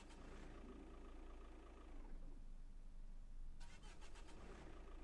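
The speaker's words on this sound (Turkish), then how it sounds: "Şimdi motoru bir çalıştıralım." A Tofaş car engine in Euro Truck Simulator 2 starts up: a steady idle drone gives way around two seconds in to a rising start and then settles into a fuller running rumble, moderately loud, with no voices.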